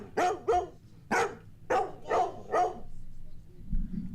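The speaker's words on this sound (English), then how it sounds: "You hear the doggy?" A dog barks in a rapid series of about six sharp, fairly close barks, arriving in a quick uneven rhythm, with a low murmur of voices just after.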